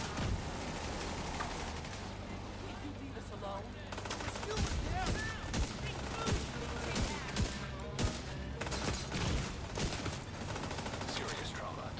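Sharp, heavy SVD rifle shots in The Division 2 crack out one after another over constant battle noise and other gunfire, with someone talking throughout.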